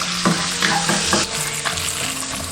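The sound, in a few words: stir-frying cured pork in oil in a wok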